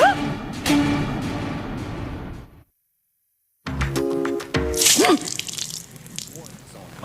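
Water is poured out in splashing, dripping bursts, broken by a short silence, with voices and other sounds around it.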